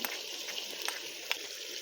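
Chicken simmering with yogurt over high heat for chicken karela gives off a faint, steady sizzling bubble with a few soft crackles and no voices.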